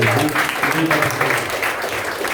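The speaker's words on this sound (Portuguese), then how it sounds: "Dê uma linda salva de palmas." Church congregation applauding at a Christian family gathering, a dense steady wash of many hands clapping at once, with voices mixed in beneath.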